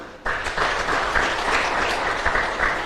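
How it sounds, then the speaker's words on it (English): Audience at a contact centre industry conference clapping for the co-organizers, a dense steady round of applause starting abruptly and holding evenly, fairly loud and close, with no talking over it. "We can clap hands for them."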